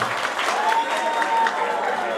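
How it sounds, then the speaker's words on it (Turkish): Audience applause at a live comedy show in Bulgaria, a dense steady patter of clapping from a crowd, fairly loud and continuous for a couple of seconds. "Alkış alkış."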